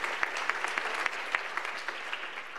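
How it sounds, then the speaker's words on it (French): Audience applause at a sustainable development forum, a steady wash of many hands clapping with a few sharper claps standing out, moderately loud and continuous throughout. "Alors, oui, on peut applaudir."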